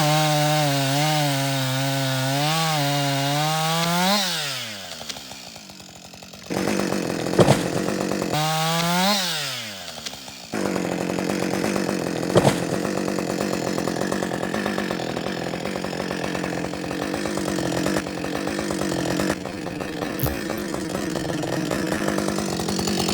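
A chainsaw bores through a tree being cut for firewood, the engine revving up and dropping back twice, then settling into a long, loud, steady cut through the wood, close by with no talking.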